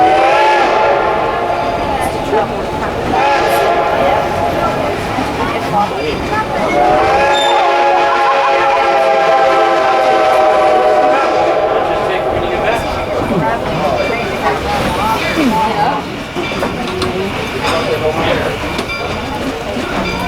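Reading and Northern 425, a steam locomotive running in the Lehigh Gorge, rumbles and clanks loudly with a sustained whistle blast, while a voice talks over the train noise.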